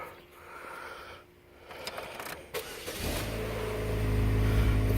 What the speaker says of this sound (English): Reverse, yay, car moves.